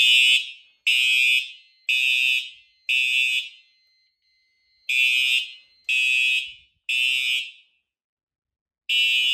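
Simplex TrueAlert fire alarm horns blare during a system test in loud, close bursts of about a second each, four in a row, a pause, three more, a second pause, then one final burst.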